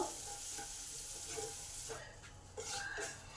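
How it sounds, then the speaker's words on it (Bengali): Black cumin seeds, torn chillies and grated ginger frying in hot oil in a pan, giving a steady close sizzle with occasional scrapes of stirring. "এবার এই মশলাগুলোকে ভালো করে ভেজে নেবো"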